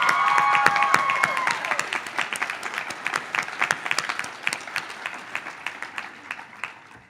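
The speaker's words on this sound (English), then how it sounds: "I applaud you all" A crowd applauds at the 2011 Hollins University commencement ceremony. The clapping starts full and sustained, then gradually thins to scattered, fading claps.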